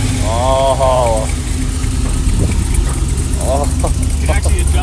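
A Mazda Miata sports car's adjustable butterfly exhaust idles with a steady low rumble while people talk nearby over the engine.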